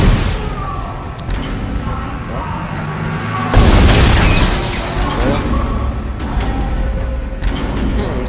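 Gunfire and impacts in the Dead Space video game, a loud burst of booming, clattering action that surges midway and carries on amid steady game noise and music.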